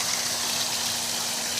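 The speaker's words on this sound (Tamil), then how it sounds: "இப்போ நீங்கள் பார்க்குறது போர்லேருந்து வர தண்ணிங்க." Water gushes out of a borewell on a coconut farm near Natham Road, Dindigul district, making a steady, loud, close rushing flow with no pauses and no voices.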